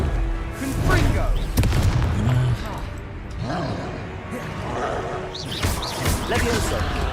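Confringo blasting spell explosions in Hogwarts Legacy, several loud booming thuds and bursts in a busy combat scene, with a voice talking over the action.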